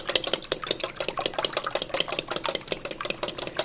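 Cracked eggs are whisked in a small bowl, producing a fast, steady series of close clicking taps as the utensil strikes the sides, continuous and rhythmic with no voices over it.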